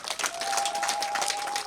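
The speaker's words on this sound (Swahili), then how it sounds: "Jipigieni makofi mengi sana" A crowd claps together at a Tunaishi Nao campaign gathering in Havanga village, a dense, steady patter of applause heard from nearby, with a faint sustained tone running underneath.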